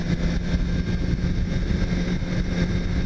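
A 2017 BMW S1000RR motorcycle engine on the move, a loud, steady, low drone with a constant hum and no speech.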